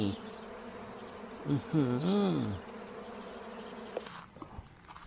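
Bees buzz close by near a wild nest in teak forest along the Mekong, a droning hum that rises and bends in pitch as insects pass, then fades into quieter rustling near the end.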